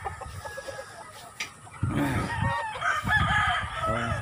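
Chickens and a rooster at a chicken farm: a loud, close rooster crow over clucking hens and farmyard background, with faint human voices.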